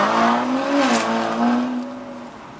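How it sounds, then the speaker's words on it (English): A car engine hums nearby, rising slightly in pitch as the car is driven slowly into a parking spot at a car club meet-up at a house in Seremban, then settling and fading a little toward the end. "Taking turns to park our car."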